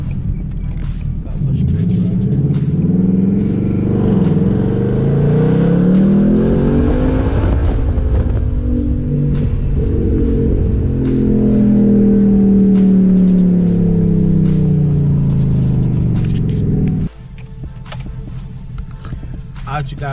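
Engine of a 2019 Ford Mustang GT California Special fitted with a Roush cold air intake, revved repeatedly with a deep rising and falling roar that holds for long stretches, then cuts off abruptly near the end.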